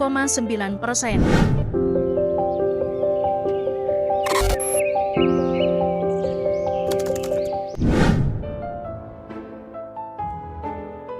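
Crows caw in two harsh, loud bursts, one near the start and one later, set against sustained tonal background music.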